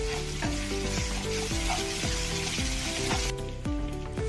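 Chopped onions with a spoon of salt fry in oil for a rohu fish jhol, giving a continuous close sizzle beneath a rhythmic, repeating musical backing.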